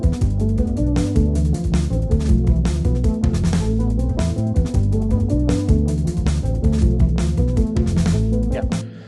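A chord progression track in odd time signatures, built in Logic Pro, plays steadily throughout with layered, sustained harmonic parts and a percussive pulse, and no voices.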